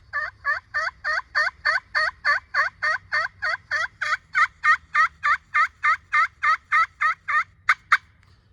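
A slate turkey pot call sounds a long run of rapid, evenly spaced yelps that turn into sharp cuts near the end, loud and close with no voices.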